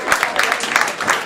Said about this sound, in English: I've got a big round of applause for our ECE staff.